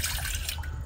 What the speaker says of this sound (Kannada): 1 ಪಾತ್ರೆಗೆ 1/2 ಗ್ಲಾಸ್ ನೀರು ಹಾಕ್ತೇನೆ.